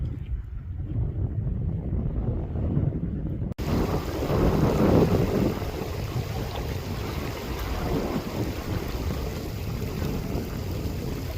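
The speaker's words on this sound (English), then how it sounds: "Extremely windy, extremely cold here." Strong wind roars across the microphone on a high Himalayan trek near Gokyo, a continuous heavy rumble and buffeting that briefly cuts out, then returns as a steady broad gusting hiss.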